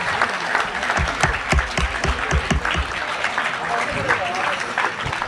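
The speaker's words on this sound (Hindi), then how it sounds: "बहुत तालियां बजते रहनी चाहिए।" A crowd applauds at an Urdu speech contest, with steady continuous clapping and a few sharper, closer claps standing out in the middle.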